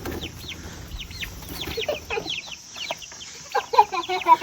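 Several chickens cluck in a backyard grow-out run for young birds, with a black rooster among them; short overlapping clucks and calls come close and fairly loud, growing busier toward the end, with no talking.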